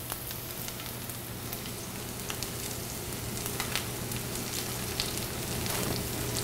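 Garlic sizzling in a pan over medium heat, a soft, continuous crackle with scattered sharper pops and a low steady hum underneath, no voices.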